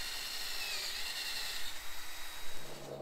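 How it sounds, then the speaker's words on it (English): A power drill whirs steadily through wood, a continuous grinding drone at moderate distance with no talking. "we're going to go ahead and drill those holes right now"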